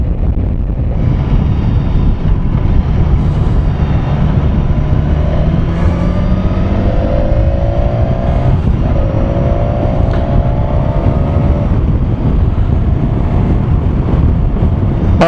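A BMW S1000XR motorcycle accelerates hard while the rider is aboard, its engine note rising in pitch through the middle of the run beneath loud, constant wind roar at the microphone.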